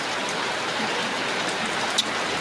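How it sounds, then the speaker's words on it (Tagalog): Rain falls steadily on a rainy morning as a dense, even hiss with a few louder drops. The sound is close and fairly loud, with no talking. "Pero maulan ang ating umaga ngayon guys."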